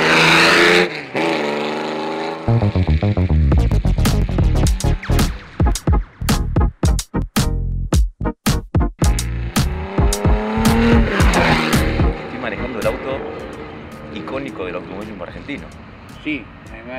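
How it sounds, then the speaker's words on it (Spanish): A Berta Tornado Formula 1 race car on a test drive roars through rapid, rising engine revs with sharp gear-change breaks and a skid, loud and close, while people talk at the start. "esperamos disfrutar un rato de la prueba de Berta Tornado de Fórmula"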